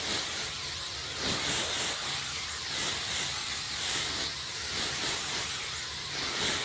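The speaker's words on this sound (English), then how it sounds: "I have this Ion Hard Hold setting spray, well, hairspray. We're gonna set everything." A steady, bright hissing spray of hard-hold hairspray runs continuously with slight pulses in intensity, close and fairly loud, with no voices.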